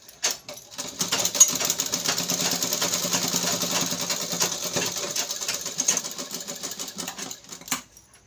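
A sewing machine stitches tucks on a blouse cup in a fast, even run of needle clatter, close and fairly quiet, starting and stopping with a few short bursts at the ends.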